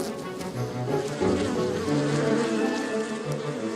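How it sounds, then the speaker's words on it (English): Honeybees buzzing at the hive, a dense, continuous close-up drone of many wings with shifting pitch and no voices. "This returning bee has just found a new source of nectar and is going to tell others in the hive about it."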